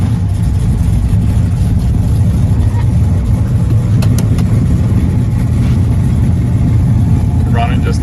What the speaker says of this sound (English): Start up our 67 Chevelle SS with 427. Let you hear